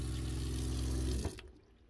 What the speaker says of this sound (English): the sink is all automatic. You just turn the handle and you get water.